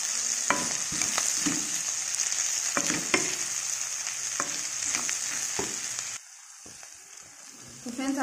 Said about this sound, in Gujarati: અને ગરમ મસાલો છે, તો એને આપણે મિક્સ કરી લઈશું એની સાથે, તો જેથી મસાલો મિક્સ થઈ જાય.